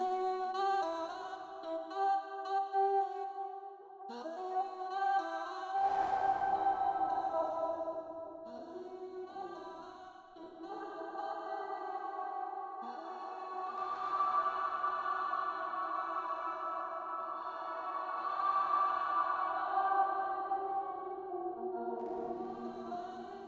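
Resoverb effect rack built from Ableton Live devices processing a tonal synth texture, with shimmering resonant reverb swells and a long, evolving ringing tail, played alone without speech.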